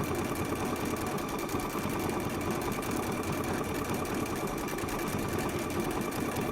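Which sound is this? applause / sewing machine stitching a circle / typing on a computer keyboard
sewing machine stitching a circle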